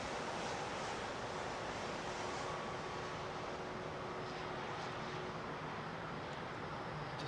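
An Iberia Airbus A320 airliner at London Heathrow sends out a distant, steady jet roar. The sound is faint and broad and holds at an even level throughout without talk.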